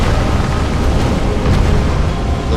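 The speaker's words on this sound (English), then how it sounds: "he did a follow-up AoE explosion" An area-of-effect explosion in a video game battle featuring Tidus, a loud sustained roaring blast that fills the whole moment with dense, rumbling noise.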